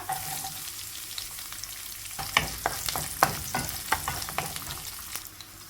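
About fifteen long-sliced garlic cloves sautéing in a pan for chicken biryani, a continuous close sizzle broken by a series of sharp scraping stirs in the second half, with no talking.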